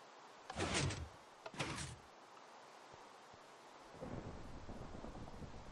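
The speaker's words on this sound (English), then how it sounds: "First time I play this, a lightning strike, so right there." Minecraft lightning strike and thunder: two sharp, loud cracking bursts in quick succession, followed by a softer rumbling wash of rain-like noise, with no talking.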